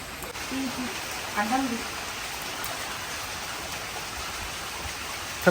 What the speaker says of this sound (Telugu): చాలా వర్షం ఉంది